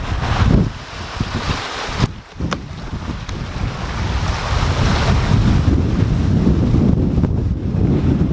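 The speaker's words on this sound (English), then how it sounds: "It's a bit blustery out here." Strong, blustery wind roars at sea aboard a sailing yacht, a loud continuous buffeting rush with microphone wind noise and waves, steady apart from a brief dip.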